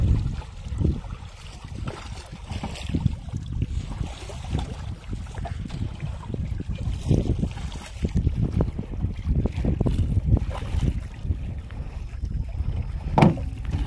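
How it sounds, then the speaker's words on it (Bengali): Strong wind buffets a small boat out in the middle of the Garhal river under cloudy skies, with continuous rumbling gusts and microphone wind noise, plus faint water sounds and occasional knocks, with no one speaking. "আর হাওয়াও হচ্ছে প্রচুর"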